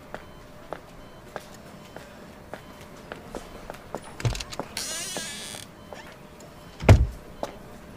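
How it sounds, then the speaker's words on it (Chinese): Mosquitoes buzzing inside a hospital, a thin whine rising briefly amid scattered footsteps and soft taps, with a louder thump near the end; no one speaks. "打蚊子，这个医院蚊子太多了。"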